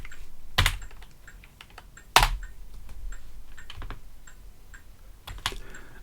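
Keystrokes on a computer keyboard as a command is typed into a Starbuntu Linux system, a steady patter of light clicks with a few louder, sharper key hits standing out, close and alone without talk.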